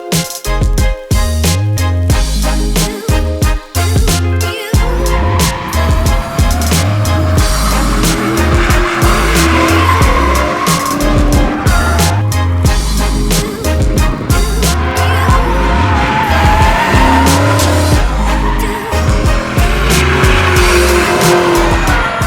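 A C5 Corvette drift car at MIR roars loudly with high-revving engine bursts and sustained tire squeal, close and continuous throughout, with abrupt throttle cuts early on.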